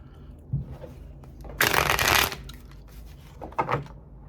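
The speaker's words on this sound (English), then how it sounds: "All right, one more shuffle." Tarot cards being shuffled in a deck, a soft papery riffle and cascade that builds to a loud burst in the middle, with lighter shuffling taps before and after and no talking.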